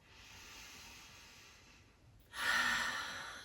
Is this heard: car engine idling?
no